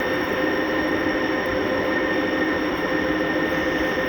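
A G scale model train, hauled by AML GP60 and USAT NW2 locomotives, runs on a garden layout, producing a loud, steady rumbling roar with a faint high whine throughout and no pauses.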